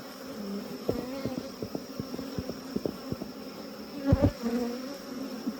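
Honey bees buzz steadily around an open beehive during an early-morning inspection, a dense continuous hum with individual bees zipping close past, and a louder rustle near the end.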